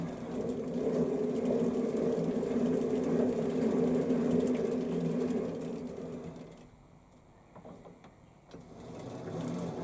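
On a Warco lathe, a toolpost grinder runs with a steady whirring drone while taking a cut on threads, then winds down near the end to a quieter stretch with faint clicks before the hum returns.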